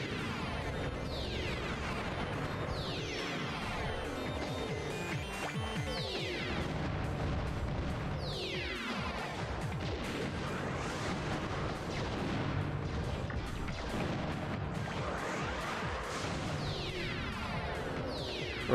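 Bomb blasts and weapon fire in the robot battle video game Custom Robo, a continuous barrage of booming explosions and sweeping whooshes layered over game music, dense and steady throughout.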